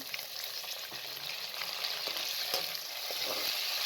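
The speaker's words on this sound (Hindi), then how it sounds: "आलू डालकर मज़ीद 3 से 4 मिनट तक आपने फ्राई कर लेना है आलूओं को भी।" Steady, close sizzling of potatoes frying in a pan for sarson ka saag aloo, with occasional soft clicks and scrapes of stirring.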